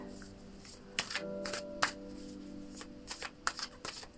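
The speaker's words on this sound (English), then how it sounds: "I'm going to pull a quick card for you." A deck of tarot cards is shuffled by hand. It gives repeated crisp riffles and snapping slaps in an irregular rhythm, close and clear, with no voices.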